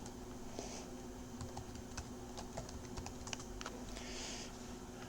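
Quiet, steady keystrokes on a computer keyboard as terminal commands are typed in LX Terminal, a run of soft irregular clicks over a low background hum, with no voices.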